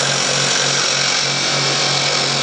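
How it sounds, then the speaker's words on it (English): A wood lathe spinning fast while a skew chisel scrapes wooden tenons, a dense, steady, close grinding rasp over a low motor hum, loud and continuous throughout. "lathe going fairly fast, and I'm just using a skew chisel just as a scraper to get these tenons smaller"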